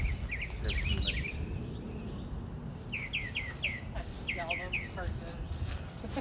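A bird perched high up calls on a residential street, giving several quick bursts of bright, clear chirps and whistles over a constant outdoor hum of insects and distant traffic.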